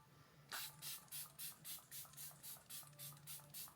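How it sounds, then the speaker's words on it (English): Rapid repeated spritzes from a bottle of makeup setting spray, about a dozen short hissing bursts in steady rhythm, close and soft. "I'm gonna use setting spray to like help all the creams kind of set."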